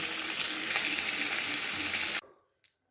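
Fish fries in hot oil for a Bengali potato and pointed gourd curry, a loud steady sizzle close up that cuts off abruptly, followed by a brief faint clink.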